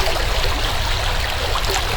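A stream flows steadily outdoors, its water trickling and gurgling in a constant, fairly loud wash with no pauses and no voices.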